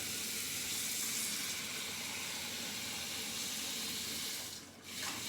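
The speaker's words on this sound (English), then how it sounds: "and I add the water." Tap water runs into a pot holding eggs with a soft, steady rushing hiss, fairly quiet and close. The flow stops briefly near the end and then resumes.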